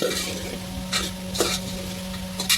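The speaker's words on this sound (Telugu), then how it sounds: "వేసుకున్న తర్వాత ఇలా కలుపుకోవాలి మనం ఫస్ట్ చేసుకున్న పేస్ట్ అంతా దీనికి మంచిగా పట్టేటట్టు కలుపుకోవాలి" Mutton coated in spice paste is stirred in a frying pan, scraping strokes of the spoon coming in several quick bursts over a steady sizzle and hum.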